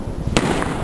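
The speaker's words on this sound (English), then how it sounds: "There's fireworks bloody everywhere." A single sharp firework burst during New Year's Eve celebrations in Reykjavik, Iceland, loud against a dense background rumble of other fireworks.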